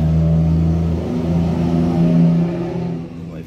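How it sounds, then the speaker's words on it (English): A passing truck rumbles loudly and steadily on a nearby road, its low engine drone swelling and easing off over a few seconds with no talk over it. "Wait for the truck to go past."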